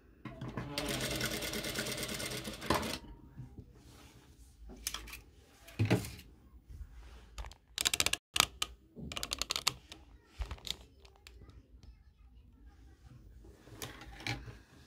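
A sewing machine stitches a facing along a garment neckline in short bursts of rapid needle clatter separated by pauses and handling noises, close by, with a voice speaking French between the runs.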